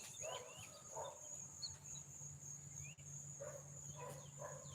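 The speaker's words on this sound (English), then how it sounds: "You hear that dog?" A dog barks several times far off in an outdoor morning setting, faint, short clustered barks in two groups over a steady high insect drone.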